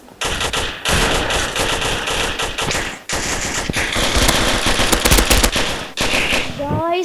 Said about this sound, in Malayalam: UMB നല്ല രസമാണ് വെടി വയ്ക്കാനൊക്കെ